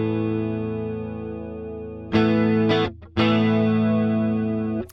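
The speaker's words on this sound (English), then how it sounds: "let's add some chorus." Sustained electric guitar chord through an Overloud TH-U Slate Edition amp simulator with a shimmering, wavering chorus tone, briefly cut off and restruck twice, ringing steadily without talk.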